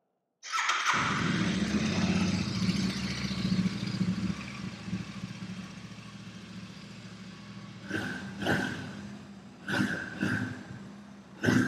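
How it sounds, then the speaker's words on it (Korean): A stock exhaust on a 2020 Royal Enfield Interceptor 650 motorcycle idles steadily at close range, fairly quiet, with a few short sharper blips near the end. "순정모 폴로의 배기 사운드 한번 들어보고요."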